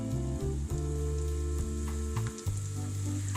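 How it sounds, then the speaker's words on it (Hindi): Onions sizzle steadily in hot oil in a pan, a continuous crackling hiss with faint stirring clinks, close and alone. "प्याज हमने पैन में डाल दिए हैं। अब हम इसको गोल्डन ब्राउन फ्राई कर लेंगे।"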